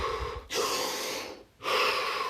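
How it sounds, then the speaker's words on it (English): Two long, deep breaths drawn in succession, each a loud airy rush lasting about a second, with a short quiet pause between them, close to the microphone and alone with no talking. "So take 5 deep breaths."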